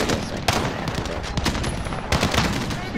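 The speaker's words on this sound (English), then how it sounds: "Oh, I have the Uzi. I forgot. That's why I'm single firing." Video game gunfire from an Uzi shot in single-fire mode: several sharp, loud, close reports come at irregular spacing, with two especially strong cracks standing out among the shots.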